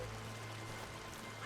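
Steady rushing water from a waterfall in the video game Robin Hood Sherwood Builders, a continuous even wash of noise with no breaks, heard alone.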